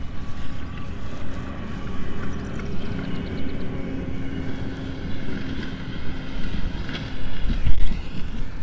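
A lawn mower runs outdoors nearby as someone walks through a garden, a steady broadband engine drone holding at moderate loudness throughout with a faint rumble of wind underneath.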